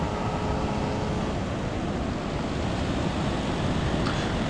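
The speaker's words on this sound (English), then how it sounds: "watch the waves, relax to the sound of the surf" Ocean surf on the Maine coast, a constant loud roar of breaking waves with wind buffeting the microphone and no voices.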